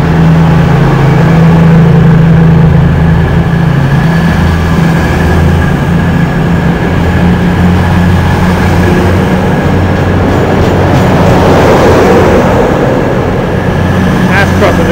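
An East Midlands class 222 diesel multiple unit arriving at Leicester station, with a loud, steady engine drone and rumble close by and a constant low hum running throughout.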